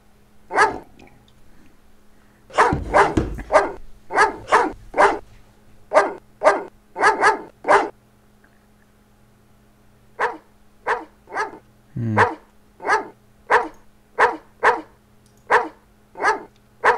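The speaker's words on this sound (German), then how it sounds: "Vielleicht können wir den Hund ja bestechen." A dog barks repeatedly in the Phantasmagoria computer game, sharp close woofs in uneven clusters, with a brief pause midway before a steady run of single barks resumes, alone without talk.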